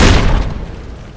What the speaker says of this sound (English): it does create one hell of an explosion for a frag grenade